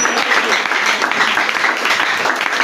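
Church congregation applauding steadily and loudly, a dense continuous clapping with no voices above it.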